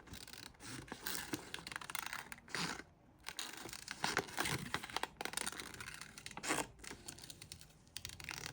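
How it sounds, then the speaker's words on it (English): Sharp scissors snip through paper in fussy cutting for a craft project, giving repeated crisp close-up snips and rustling paper in an irregular rhythm, with brief pauses and no talking. "having a good sharp scissor is also key to fussy cutting."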